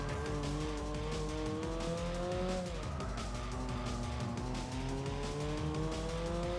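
Race cars in Gran Turismo 4 on the PlayStation scream past with rising and falling engine tones and tire squeal, loud and continuous throughout with no talking.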